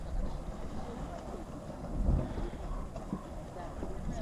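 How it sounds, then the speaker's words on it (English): Gases bursting inside the hot spring caverns at Yellowstone give a low, rumbling, churning roar with wind buffeting the microphone; a heavier surge swells near the middle, with no talking heard. "Sounds like something mechanical, but that's just the explosions inside the caverns of the gases."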